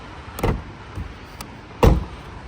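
A Citroen C5 trunk lid, fitted with a new spring, released and swinging on its hinges, giving two firm low thumps about a second and a half apart, close and loud, with a fainter click between.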